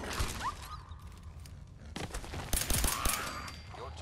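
Shotgun blasts at mole rats in the video game Fallout: sharp, loud game gunfire with a clustered volley of shots near the middle and a few more after it, over a busy background of game noise.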